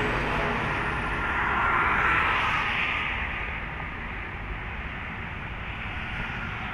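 Large intercity buses race along a road, a broad rumbling roar of engines and tyres that swells around two seconds as one passes close, then settles into a steady, slightly quieter drone.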